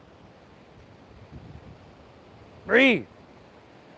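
Ocean waves wash steadily onto an oceanfront beach as a soft, even background roar, and a single spoken word rises briefly over it near the end.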